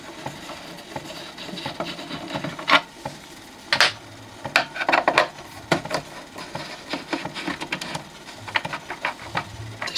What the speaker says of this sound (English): despite the spring being knackered, I'm going to let this run down